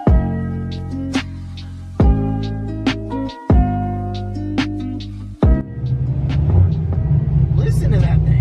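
A loud, rowdy Corvette at a Truck Week car event rumbles and revs in repeated bursts, with deep pulsing engine tones that cut off sharply between pushes, then settles into a steady throaty roar near the end.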